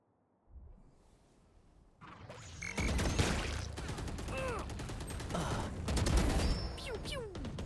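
Rapid bursts of Valorant gunfire crack in quick succession after a quiet start, loud and close, with mechanical reload clicks mixed in and a voice speaking now and then.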